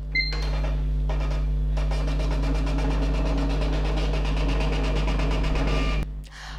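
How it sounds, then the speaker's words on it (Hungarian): A Sam4s NR-440 cash register prints a daily summary receipt, its printer mechanism whirring and ticking in a rapid, steady rhythm for several seconds over a constant low hum before stopping abruptly near the end. "A zárás követően a pénztárgép nyomtatni fog egy összesítést az aznapi forgalmáról."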